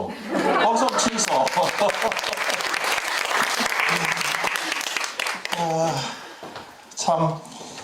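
Parents gathered at a high school visit event clap loudly in a dense round of applause with some laughter mixed in, fading out as voices talk near the end.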